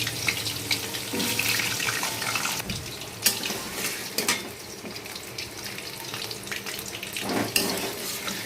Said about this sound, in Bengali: তেল গরম হয়ে গেছে, আলুটা ভাজতে দেবো।